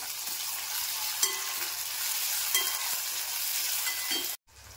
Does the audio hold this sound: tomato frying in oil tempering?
yes